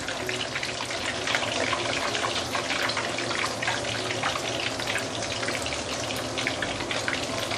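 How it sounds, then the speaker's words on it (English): Meatballs sizzle steadily in a hot pan, a dense, continuous crackle and hiss close by with no pauses and no voices. "fry this for another minute or two, then I will take it out"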